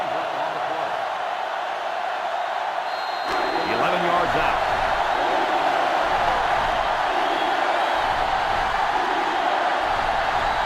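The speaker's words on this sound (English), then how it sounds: "So this crowd is making their presence felt." Stadium crowd noise from the NCAA Football 2005 video game during an Ohio State versus Clemson college football broadcast, a steady loud roar swelling slightly under continuous play-by-play commentary.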